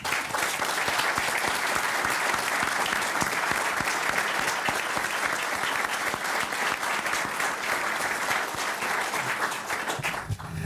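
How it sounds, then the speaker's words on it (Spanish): Warm, sustained applause at a ceremony awarding architect Miguel Lawner an honorary doctorate from the Universidad de Santiago de Chile: dense, steady clapping from a large audience that fills the hall evenly and tapers slightly near the end. "a quien tributamos este caluroso aplauso"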